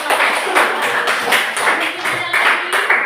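An audience claps together at a talk on the sacrament of marriage. The broadband applause is fairly loud and close, with rhythmic surges, and a voice can be heard faintly underneath.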